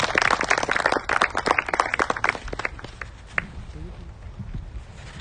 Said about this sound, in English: Let's give a big applause to all the leaders, community members, and City of Irving to make this happen right here in the city